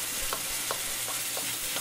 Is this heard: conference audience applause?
no